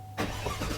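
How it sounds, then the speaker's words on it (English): A 2019 Chevrolet Silverado All-Star Edition pickup engine fires up from push-button start, catching abruptly and settling into a steady rumbling idle, close by, with no talk. "engine starts."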